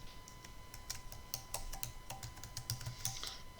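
Fingers type on a computer keyboard while entering data into an Excel spreadsheet, producing a quick irregular series of soft, close key clicks with no talking.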